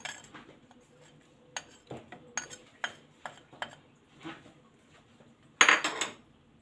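Spoons and utensils clink against pots and glassware while jaggery and turmeric go into juice, several sharp separate taps spaced out, ending in a louder clatter near the close.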